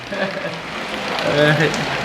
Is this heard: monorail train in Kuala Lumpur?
no